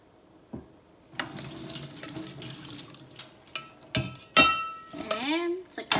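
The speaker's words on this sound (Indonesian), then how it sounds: "Ini udah setengah matang, kita angkat dan tiriskan kentangnya ya." Water runs and splashes into a kitchen sink as boiled, half-cooked potatoes are drained for roast potatoes, with brief clanks of a pot and bursts of pouring, fairly close.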